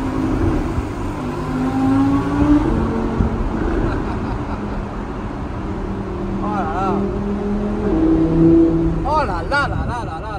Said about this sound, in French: Il passe avec la GT3 LS.